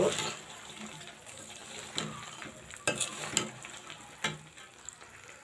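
Peanuts stirred into caramelized sugar in a pan make a faint, soft sizzle, with scattered scrapes and knocks from the stirring.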